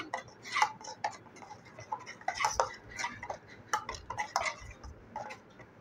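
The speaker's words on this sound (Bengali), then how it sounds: "দেওয়ার পর চামচের সাহায্যে এভাবে করে একটু নেড়ে চেড়ে নিচ্ছি।" A spoon stirs turmeric powder and chopped green chillies in a pan, giving irregular close metallic clinks and scrapes in quick bursts with short pauses.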